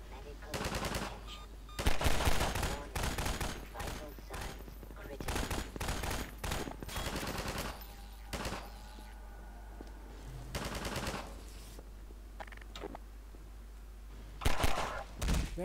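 Bursts of automatic gunfire aimed at the player in Half-Life 2, with loud, sharp volleys arriving in uneven clusters and quieter stretches between them.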